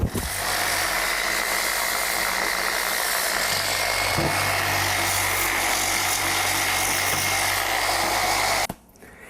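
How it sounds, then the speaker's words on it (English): An orbital polishing sander runs on low speed over painted wood veneer, a close steady whining buzz with small shifts in pitch as pressure changes, then it cuts off abruptly near the end. "This is my orbital polishing sander."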